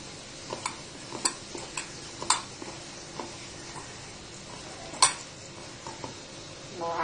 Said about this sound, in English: So now I will mash these potatoes first.